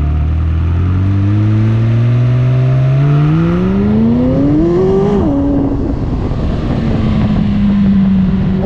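McLaren 600LT sports car engine revving up in a steady climb to a peak, then dropping back to a smooth, low idle-like drone, heard close and loud with no talking.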